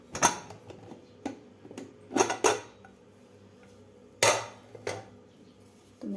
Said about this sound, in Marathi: आता आपण झाकण काढून घेऊया.